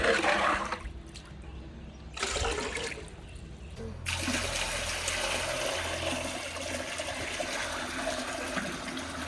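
Water from a pot is poured into a guppy fish tank, splashing and gushing in bursts with short pauses, then running in a steady continuous flow.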